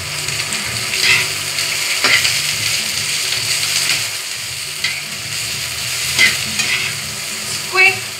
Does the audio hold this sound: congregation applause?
no